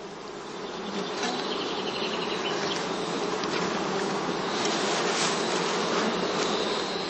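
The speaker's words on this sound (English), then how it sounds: "The bees are busy feeding their brood." Honeybees at a heather-straw skep hive in heathland, feeding their brood: a dense, continuous buzzing swarm close by, steady and even throughout, with no voices.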